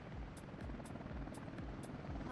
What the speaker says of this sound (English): Yeah, helicopter demolition.